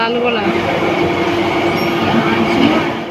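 A train rumbling loudly and continuously through a railway station, a dense steady roar with a faint voice underneath.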